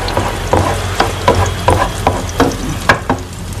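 Garlic and onion fry in an electric pan with a loud, close, steady sizzle, broken by regular scraping stirs and small spatters, with no talk over it.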